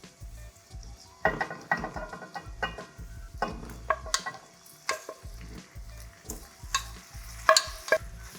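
Cassava pieces fry in butter in a pan while being tossed and stirred, bursts of sizzling mixed with repeated spoon scrapes and knocks, close and fairly loud.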